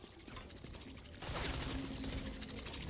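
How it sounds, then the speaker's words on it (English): A gun reloading in the zombie survival game Dying Light: a sudden burst of mechanical clicks and metallic clatter starts partway through, loud and close, and carries on over steady game ambience. "Reloading."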